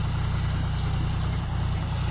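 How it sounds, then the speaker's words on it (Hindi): John Deere 5205 tractor, 50 hp, pulling a 14-disc harrow through a field, its diesel engine droning loud and steady up close with a rapid low throb and no talk. "आज की वीडियो है अपनी 14 तवा की हैरो और जॉनडियर 5205 ट्रैक्टर की।"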